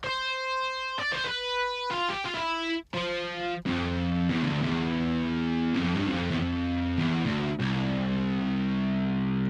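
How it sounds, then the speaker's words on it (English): A distortion guitar preset from a free guitar VST plugin plays gritty, saturated notes and sustained chords, loud and alone with a fuzzy buzzing tone. "a distortion guitar"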